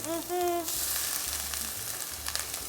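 Onion and pimento frying in a very hot pot, a bright steady sizzle with scraping stirs, briefly preceded by a short tonal whine, no talk.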